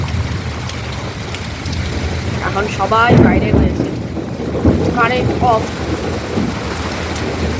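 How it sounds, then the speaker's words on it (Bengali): Heavy rain with wind buffeting the microphone during a thunderstorm, a steady roar of downpour with low rumbling throughout while someone talks over it nearby. "আজকে রীতিমতো ঝড় উঠে বৃষ্টি।"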